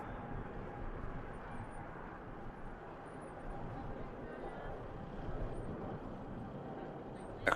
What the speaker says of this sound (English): Aircraft leaves the ground at Manchester